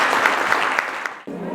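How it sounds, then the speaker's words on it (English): Warm applause from a conference audience at a Woman in Mining Day event greets a speaker, dense clapping that stays loud and steady before cutting off abruptly, after which a voice begins talking. "Can we please give her a warm round of applause?"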